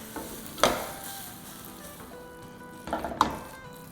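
A spoon stirs taco filling in a pan on a just-switched-off stove, with soft sizzling underneath and a few scraping, clinking strokes against the pan, close and moderately quiet, with no speech.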